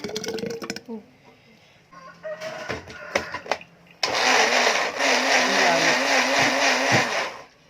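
A small kitchen blender blending rambutan seeds with water starts up and runs loudly with a steady whirring drone, after clinks and handling noises; chickens cluck and crow faintly beforehand.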